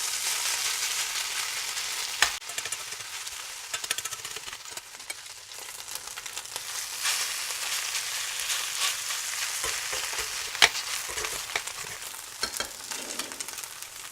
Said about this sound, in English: And then we can put in the next batch. Little oil, the pancake mixture,